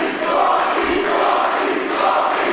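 Wrestling arena crowd at a Phoenix Wrestling show cheering in a continuous, fairly loud roar that swells and holds, with no clear voice over it.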